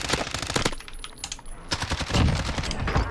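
Rapid automatic bursts from an LC10 submachine gun in Call of Duty Warzone, loud and close, with a brief pause between strings of fire.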